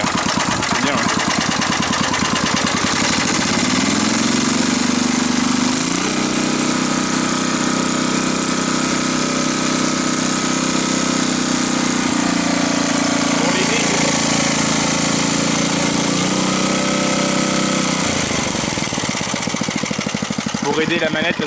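Small engine on a restored Motostandard machine starting up and settling into a steady idle, loud and close, with someone speaking over the running motor.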